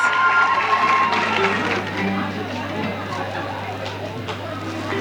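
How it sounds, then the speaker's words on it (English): A graduation-ceremony audience at a skills academy claps steadily in a dense, continuous wash of applause, with crowd chatter and a voice mixed in throughout. "Give her a round of applause."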